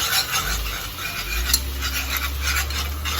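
Flour mixture for a bechamel sauce, stirred hard in a pan, giving a continuous close scraping and rubbing with a light hiss and faint utensil clinks.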